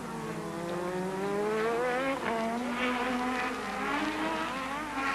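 Williams Honda Formula 1 cars race in 1986, their high-revving engines screaming close by with rising and shifting pitch as they accelerate and change gear, several cars overlapping loudly with no talk.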